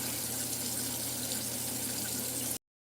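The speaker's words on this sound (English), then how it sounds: "I'm going to wet my hands just a little bit" Water running from a tap while hands are wetted at a bathroom sink, a steady close splashing hiss that stops abruptly after about two and a half seconds.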